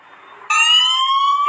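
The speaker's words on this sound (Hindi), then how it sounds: "जैसे सिम निकला ये सायरन बज गया" A phone's anti-theft app sets off a loud siren alarm right after the SIM card is pulled out, starting abruptly after a faint rustle and holding a steady, piercing multi-tone wail close up.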